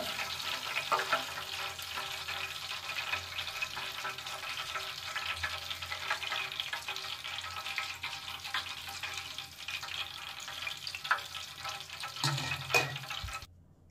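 Capsicum and onion fry in a pan for home-style chilli gobi, giving a steady soft sizzle with scattered crackles and pops and a few louder clinks toward the end.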